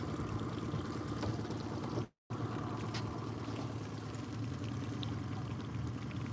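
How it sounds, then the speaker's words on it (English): Water rushes and gurgles steadily, like a flowing creek, with a brief dropout partway through before the steady flow resumes. "We actually have water in the creek right now"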